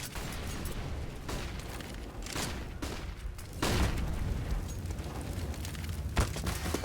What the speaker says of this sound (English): He throws a Molotov as well. and a flashbang.